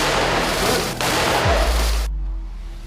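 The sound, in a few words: gunfire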